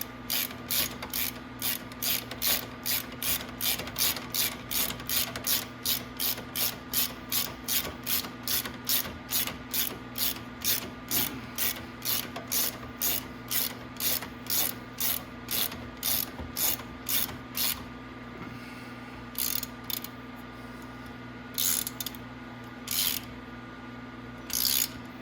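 Hand ratchet tightening bolts on the rear end of a Venom 1500w E-Grizzly electric ATV, a close, rapid series of regular clicking strokes with brief pauses near the end.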